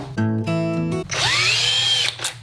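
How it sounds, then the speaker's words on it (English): A power drill spinning a small bit into a guitar bridge, starting with a couple of short whirring bursts, then a longer sweeping whine as the motor revs up and winds down, close and loud. "Is start with a really small bit."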